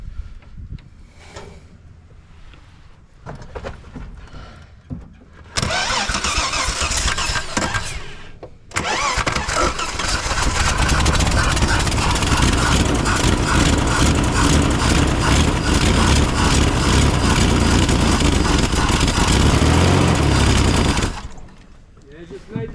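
A Holden HQ one-tonner truck engine cranks and catches, then runs loud and steady with low rumbling revs for several seconds before cutting off; brief voices come before it starts.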